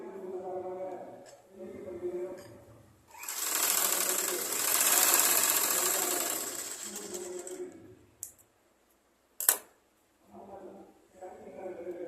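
A sewing machine stitches a blouse in a burst of rapid, buzzing whirr lasting a few seconds, with a couple of short clicks afterward; someone talks before and after the stitching.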